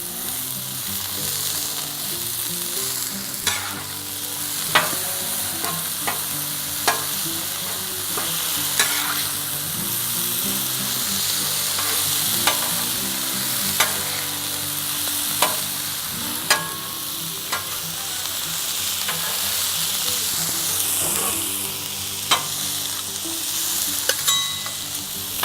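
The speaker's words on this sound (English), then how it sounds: "Go ahead and get our peppers and onions on here also. Get them to sauteing up." Peppers and onions sauté on a Blackstone griddle, a steady sizzle and crackle with occasional sharp scrapes and clicks of a spatula stirring them.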